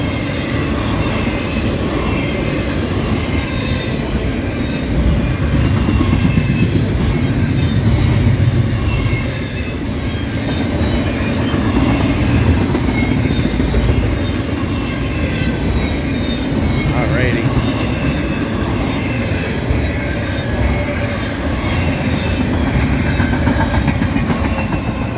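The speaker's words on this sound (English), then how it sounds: "And I love that these trains go track speed here." A CSX freight train rolls past at track speed through Lowellville, Ohio, a loud, steady rumble of wheels and railcars with faint squealing and rhythmic clatter lasting throughout.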